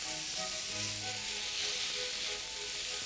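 Cooked rice is stirred into a reducing sauce in a pan over high heat, producing a continuous close sizzle and hiss with light stirring noises and no talking.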